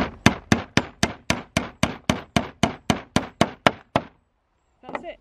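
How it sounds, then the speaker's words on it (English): About fifteen loud, evenly spaced hammer blows drive a nail into pallet wood for a DIY potting bench. The strikes are steady and close, then stop, and a brief faint sound follows. "just get your hammer, tap it gently, and then once you've sort of got it in and it's going straight down"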